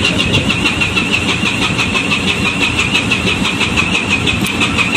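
A ship's engine during undocking maneuvers, a steady, loud drone running continuously with a constant high whine on top, unchanging throughout.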